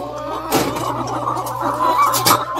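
Hens in a coop of twelve birds cluck in short bursts, with a louder squawk near the middle and another toward the end over a steady low hum.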